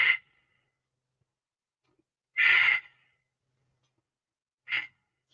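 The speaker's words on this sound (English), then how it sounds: "take 3 deep breaths in this posture" Three deep breaths during a yoga pose, each a breathy exhale of under a second, separated by long silences, close and clear with nothing else heard.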